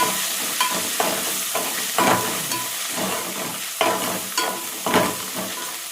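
Turmeric being stirred into a sizzling mixture of ginger and garlic in a pan, with steady frying hiss and repeated scraping strokes of the spoon, close and moderately loud, no talking.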